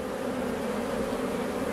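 Honey bees buzz during a beehive inspection, a dense, steady hum from many bees close by, constant in loudness throughout with no talk.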